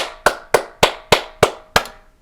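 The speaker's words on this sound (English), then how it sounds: "let me clap one more time" Six sharp hand claps ring out alone at an even, unhurried pace, each a crisp close slap with a short decay, followed by silence.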